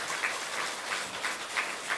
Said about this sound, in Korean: 뜨거운 박수로